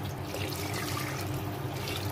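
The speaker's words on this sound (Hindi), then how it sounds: "अब हम अपने हिसाब से पानी इसमें ऐड कर देंगे।" Water poured into a pressure cooker for cooking rice, a soft continuous splashing and trickling close by, fairly quiet and without talk.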